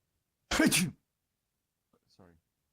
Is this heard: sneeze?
yes